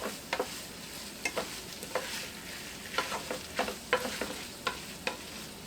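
Copycat P.F. Chang's lettuce wrap filling simmers in a pan, a soft continuous sizzle broken by sharp, irregular scrapes and taps of a utensil stirring, fairly close and without voices.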